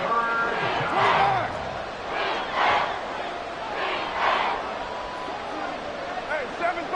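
Stadium crowd noise from a Madden NFL game, recorded during a Saints–Buccaneers matchup, holds a loud continuous roar of cheering with a few surging swells while a commentator's voice talks over it.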